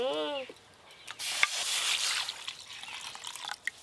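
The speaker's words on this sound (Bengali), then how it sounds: "আমি কড়াই জল দিয়ে দিচ্ছি" Water pours into a wok on a kitchen fire, a steady broad rushing and splashing stream that follows a brief voice at the start and carries on with small drips and clatter.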